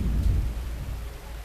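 Thunder rumbles low and heavy on a rainy December evening. It starts strong and fades into a softer, steady rolling noise with rain hissing underneath.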